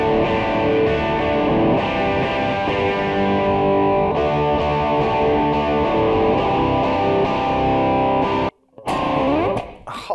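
Distorted electric guitar played through a Donner Cyclops modeling mini amp on its chimey Vox setting, sustained chords ringing loud and steady, then a brief drop to near silence and a short return of playing at the end.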